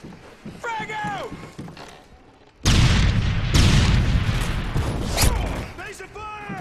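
A frag grenade explodes in Modern Warfare 3 multiplayer Search and Destroy, a sudden loud boom with a long rumbling debris tail, amid in-game gunfire and shouted soldier voice lines before and after.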